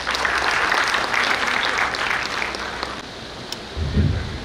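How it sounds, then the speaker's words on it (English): Audience applause at a chartered accountants' regional conference, welcoming a speaker to the stage: steady, dense clapping from a full room, loud and sustained, thinning slightly toward the end. "Let's welcome you again with a big round of applause."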